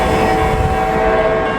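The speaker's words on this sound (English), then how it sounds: "we got a train coming" A train passes a level crossing with the gates down, a loud, steady rumble with a horn-like tone running through the whole stretch, close by and with no talk over it.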